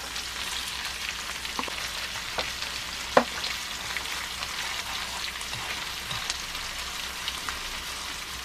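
Tomatoes and tofu noodles stir-frying in oil, a soft, even crackling sizzle like light rain with occasional small utensil taps and one sharper clink midway, no one speaking.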